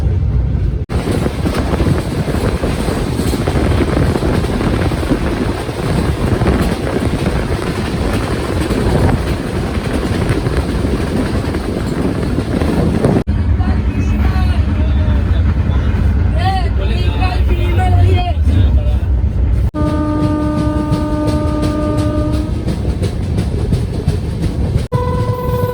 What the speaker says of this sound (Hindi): हाईएस्ट स्पीड पे चलती हुई सरयू यमुना एक्सप्रेस